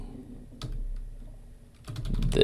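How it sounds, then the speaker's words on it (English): Keys tapped on a computer keyboard while entering a link in the Canvas course system, a few isolated taps then a denser cluster of quick clicks near the end, close and fairly quiet. "now I'm going to type link to syllabus page"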